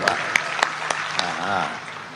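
A handful of sharp, separate hand claps from one person at a comedy routine, spaced unevenly over about a second, with a faint murmur of voices underneath.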